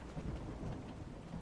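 A steady thunderstorm from Tails of Iron, dense rain with low rumbling thunder running continuously at even loudness, with no talk.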